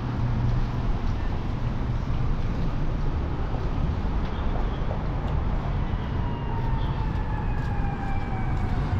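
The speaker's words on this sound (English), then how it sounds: "some sirens." Distant sirens wail faintly in Winnipeg's Exchange District, rising and falling beneath a loud, constant rush of traffic and wind noise.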